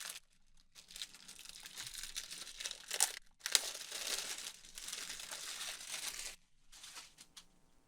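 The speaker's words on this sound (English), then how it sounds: "I'm just gonna go ahead and get the seal broken here as well." Shrink wrap is crinkled and torn off a No More Heroes 3 game case, with close crackling bursts of plastic broken by short pauses and a few sharper rips.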